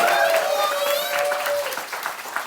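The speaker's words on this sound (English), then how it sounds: "Make some noise for Ms. Tanya Moravec" Audience applause and cheering at a college-prep talk event as a presenter is welcomed to the stage, a steady burst of clapping with whoops and a whistle-like tone, fairly loud and close, tapering off toward the end.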